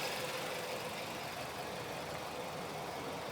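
A 2008 Hyundai S3 coupe engine idling quietly, a steady, low, even hum with no revving and no voices.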